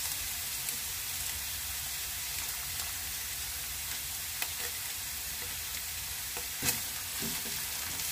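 Tomato sauce for picadillo cooks and gets stirred in a pan, a steady quiet sizzle with occasional soft stirring scrapes and a light knock, no speech.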